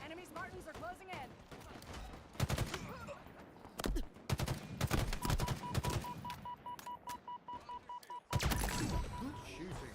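Rapid bursts of gunfire from a Halo Infinite ranked Capture the Flag match, loud and close, under game announcer voice lines, with a steady electronic tone running through the middle of the clip.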